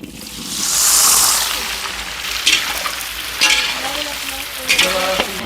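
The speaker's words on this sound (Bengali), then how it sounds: "আলুগুলোকে ভালো করে ভাজা ভাজা করে নেব" Peeled potatoes frying in mustard oil while cooking for a large gathering in a village, a loud hiss swelling early, then steady sizzle broken by several stirring clatters.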